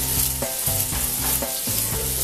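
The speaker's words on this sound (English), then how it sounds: "We're ready to sear our mushrooms." Mushrooms sear in canola oil in a smoking hot pan, a loud, continuous sizzle and crackle with a few rhythmic stirring scrapes, close and without speech.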